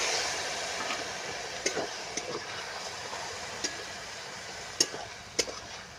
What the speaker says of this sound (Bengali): আমি এবারে এতে অল্প পরিমাণে জল দিয়ে দিলাম